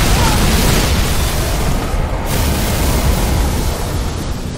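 A grenade blast in the Halo 3 video game gives a heavy, dense roar of rumbling noise that fills the whole clip, loud and sustained with little variation.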